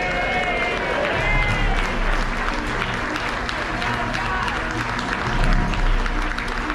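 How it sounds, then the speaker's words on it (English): A farewell audience gives a long, dense round of applause for the captain, steady and full throughout, with voices and murmurs mixed in the crowd. "Would you all join me in one final big round of applause for our Captain John Scott?"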